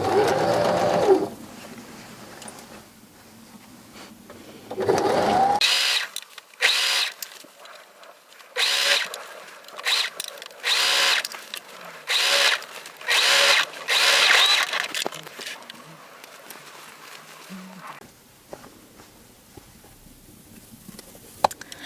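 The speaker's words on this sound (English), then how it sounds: "So off we go and sew." A sewing machine stitches a seam on a reversible lined tote bag, running in several loud whirring bursts of a second or two each with short pauses between, faint talk at the start.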